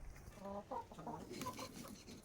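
Chickens clucking close by at a rural Thai garden homestead, a short run of soft, throaty clucks and murmurs over quiet background.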